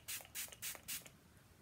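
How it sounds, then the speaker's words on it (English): Four quick hissing bursts of makeup fixing spray in a short, even rhythm, close and fairly soft, followed by quiet. "Again, spray it with the fixing spray."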